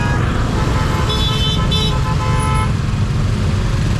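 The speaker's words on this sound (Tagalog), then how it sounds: "traffic na nga" Dense road traffic on EDSA in Manila, with a constant heavy roar of engines and a couple of brief car-horn toots early on and no voices.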